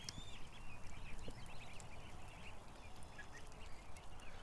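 Several ducks quack faintly and repeatedly over a soft, rustling outdoor background.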